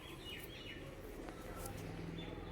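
Desi giribaz pigeons coo and chirp softly at a pigeon sale, their calls faint and partly distant over a steady background hum, with a few brief higher chirps.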